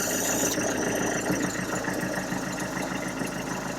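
A diesel Land Rover engine cold-starts on a frosty morning and settles into a steady, loud idle with a rhythmic knocking chug close by.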